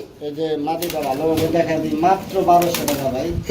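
Pigeons coo in soft, repeated throaty warbles close by at a pigeon sale, with a person speaking among them.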